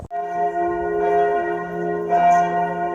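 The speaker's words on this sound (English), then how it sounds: "Some church bells." Church bells in a German town ring out at noon with loud, sustained, resonant tones, and fresh strikes swell over the lingering hum of the previous ones.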